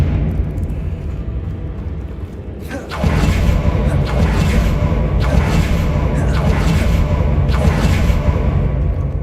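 A Confringo fire spell in Hogwarts Legacy detonates with a deep boom, followed by a series of rumbling blasts and whooshes that continue loud and sustained.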